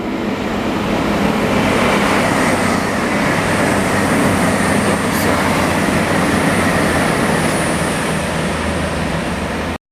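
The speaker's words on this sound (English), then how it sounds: "Now passing through is a Virgin Trains Voyager." A Virgin Trains Voyager passes through Bletchley station in autumn 2019, a loud, steady rumble of wheels and engine that fills the whole stretch without fading until it cuts off at the end.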